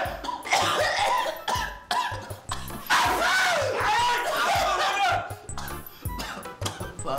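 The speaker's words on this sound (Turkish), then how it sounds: "Oğlum öksürme, öksürme. Öksürmeden anlatın derdinizi la." A group of soldiers coughs repeatedly in a loud, clustered burst, with some throat clearing mixed in. People talk and shout between the coughs.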